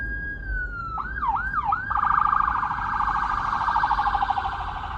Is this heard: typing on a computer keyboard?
no